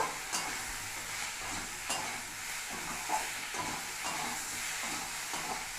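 Potatoes sauté in oil with turmeric and salt, a continuous sizzle broken by regular scraping stirs of a spatula in the pan, with no voices.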